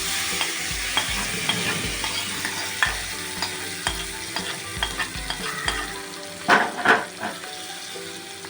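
Tempering spices with turmeric sizzle and crackle in hot oil for tamarind chutney, a close, busy frying hiss with scattered pops and stirring clicks, ending in a couple of sharper louder bursts.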